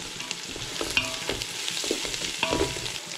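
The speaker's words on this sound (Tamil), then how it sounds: "கொத்தமல்லி போடுங்க. 2 நிமிஷம் நல்லா வதக்குங்க" Coriander leaves being sautéed in a pan for a duck dum biryani, a steady close sizzle with soft scraping stirs and a few sharp clicks of a utensil against the pan.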